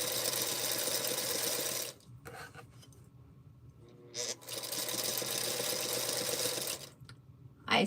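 A Singer Featherweight sewing machine stitches in a fast, steady whir, pausing briefly twice before starting again, close and fairly loud.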